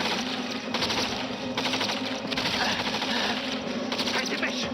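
Rapid automatic gunfire in a war film battle scene, dense continuous bursts with loud crackling volleys throughout, mixed with shouting voices.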